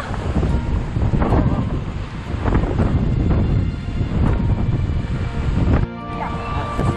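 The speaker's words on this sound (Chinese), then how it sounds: "狂风大作。" Strong wind buffets the microphone on a mountain hiking trail descending toward Chamonix from the Aiguille du Midi area, a loud continuous roar with gusts throughout.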